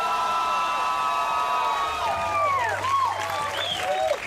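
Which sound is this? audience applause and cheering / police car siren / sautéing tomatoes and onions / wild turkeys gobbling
audience applause and cheering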